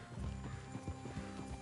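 Horse hooves clip-clopping with a short whinny in the open-world western video game Red Dead Redemption 2, soft and fairly close, with no talk.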